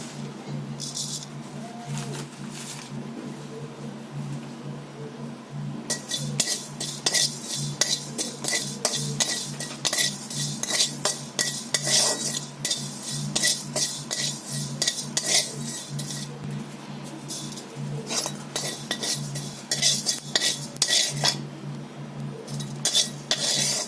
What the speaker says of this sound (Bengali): একটু জিরে ভেজে নিচ্ছি